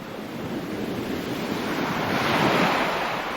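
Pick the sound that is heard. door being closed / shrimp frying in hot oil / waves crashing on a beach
waves crashing on a beach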